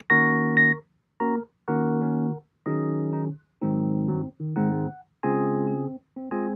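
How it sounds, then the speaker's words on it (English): Electric piano chords played one after another, eight sustained warm chords separated by short silences, close and clean with nothing else underneath. "I gave it a Rhodes kind of sound."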